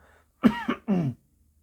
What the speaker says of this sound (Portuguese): Peço perdão pela tosse.